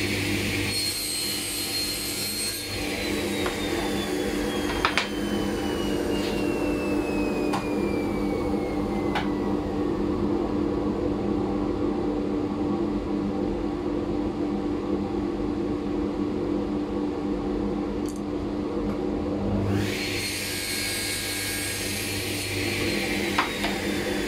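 A power saw cuts wood for a keepsake box, a loud steady whine running continuously for about twenty seconds before stopping, with a brief pause early on.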